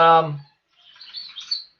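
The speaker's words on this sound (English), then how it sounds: "the birds might be a little noisy" Birds chirp outdoors, a few quick high tweets clustered in the last second, heard right after a brief burst of a person talking.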